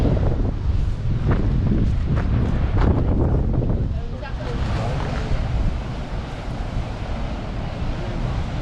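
Ocean waves and wind at Nazaré, Portugal, a steady broadband roar of surf with gusting wind buffeting the microphone throughout, loud and continuous, with a person speaking briefly over it.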